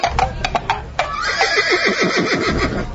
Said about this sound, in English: Adolph, how did you get on that horse?